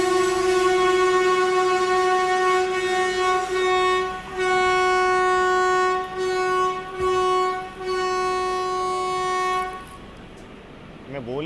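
The Bihar Sampark Kranti Express sounds a long, loud horn near Tundla Junction after its emergency chain is pulled. The steady blast holds for about ten seconds, briefly dipping a few times before it fades out at the end.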